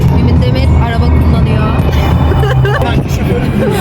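Inside a moving car, a low road rumble and engine hum run steadily under close, continuous talk from the occupants.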